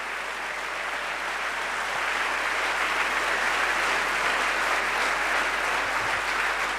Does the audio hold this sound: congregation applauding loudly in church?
yes